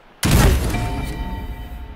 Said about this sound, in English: I'm gonna initiate combat with this awesome sniper rifle.